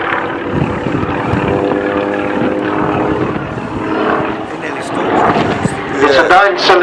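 A 9-cylinder, 1,000-horsepower radial aircraft engine droning loudly at the Old Warden airshow, a steady propeller roar beneath someone talking over it.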